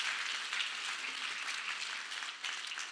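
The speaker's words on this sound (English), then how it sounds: "Give these guys a round of applause." Church congregation applauding, steady dense clapping from many hands, fairly faint and distant-sounding, sustained for the whole stretch without talk over it.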